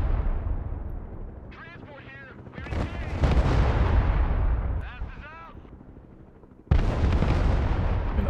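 Artillery shells pound a tank in the real-time strategy video game Broken Arrow, heavy booming blasts and rumbling impacts arriving in several bursts while someone talks in German between them.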